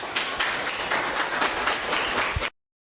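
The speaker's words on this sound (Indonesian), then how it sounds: "Tepuk tangan semuanya" A classroom group claps steadily in dense, continuous applause for a couple of seconds, then it cuts off abruptly into silence.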